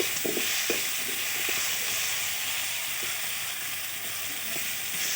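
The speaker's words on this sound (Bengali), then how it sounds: "লবণ হলুদ গুঁড়ো দিয়ে আমরা আলুগুলোকে ভালো করে আগে ভেজে নেব।" Potatoes seasoned with salt and turmeric fry in hot oil, a steady close hiss and sizzle with occasional soft stirring clicks, no voices.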